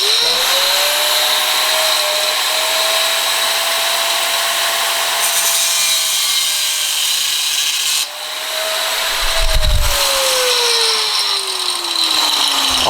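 A loud power tool whines steadily as it cuts a small metal piece for a homemade fishing spoon, the pitch dipping briefly partway through and a low thud sounding near the end.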